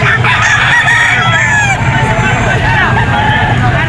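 Roosters and chickens for sale at the Bocaue pet market, with crowing and clucking amid the busy crowd babble, traffic noise and nearby voices talking continuously.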